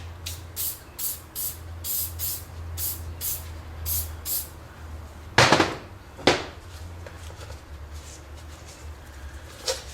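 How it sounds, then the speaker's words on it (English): Rapid short bursts of silicone spray from an aerosol can hiss in a quick rhythm, followed by two longer, louder sprays, close by, over a low background hum, during front strut replacement on a 1999 Pontiac Grand Am. "use silicone spray"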